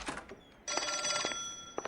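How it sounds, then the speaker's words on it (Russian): An old-fashioned telephone bell rings in the L.A. Noire video game, two bright ringing bursts with a short gap between them, loud and close, with no talk over it. "Телефон."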